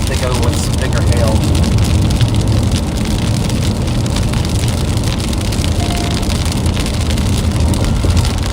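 Heavy rain from a severe thunderstorm drums steadily on a car on the Kansas outskirts of the storm, a loud, dense, continuous roar with no let-up throughout.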